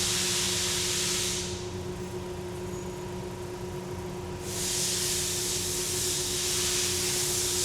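Fuel injectors from a Camaro spraying during a bench test run at around 3400 RPM: a steady broadband hiss that drops away for a few seconds mid-clip and returns, over a constant machine hum.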